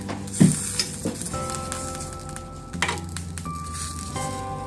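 Sausages sizzling on a hot grill, a steady soft crackle that carries on under a sustained tonal hum and a few occasional clanks of handling.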